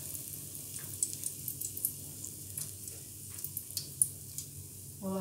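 Coated chicken frying in very hot oil gives a quiet, steady sizzle with small scattered pops and crackles, and there is a brief clank near the end.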